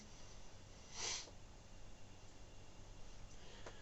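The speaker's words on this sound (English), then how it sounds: "let's have like a neck sniff of this one" One quick, sharp sniff very close by at the neck of a Budvar beer bottle, then quiet background hiss and a faint breath near the end.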